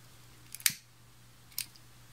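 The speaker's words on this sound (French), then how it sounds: "Donc je coupe et je passe le ruban sur la flamme mais pas tout près." Scissors snipping through satin ribbon, two crisp close cuts about a second apart over a quiet low hum, with no talking.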